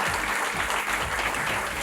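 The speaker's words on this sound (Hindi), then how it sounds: "इतनी तालियां बज रही हैं इनके लिए" A seated audience at a Hindi television show applauds, a brief, dense and continuous burst of clapping from many people, heard close and steady with no pause.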